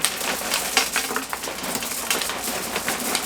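Exo Terra Biodrain rough clay rock being mixed into beetle terrarium substrate, giving a steady close gritty rustling and crunching of granules with small clicking pebbles, no voices.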